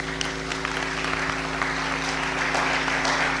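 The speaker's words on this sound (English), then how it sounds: "give him a round of applause, please" A church conference congregation gives a round of applause for Pastor Joshua, dense steady clapping filling the hall with a low electrical hum underneath.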